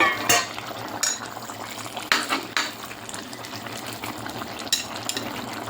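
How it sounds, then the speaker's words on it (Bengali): Vegetables simmering in a pan after a splash of water is added, with a low bubbling bed broken by a few sharp clinks of a spoon or utensil against the pan. "এখন একটু করে জল দিয়ে দিব, জল দিয়ে ঢেকে দিব।"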